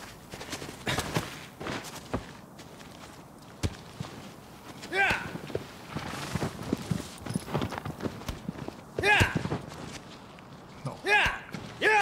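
Horse hooves clip-clopping in the game Shadow of the Colossus, irregular hoof thuds and steps mixed with game sound effects, with a player talking over parts of it.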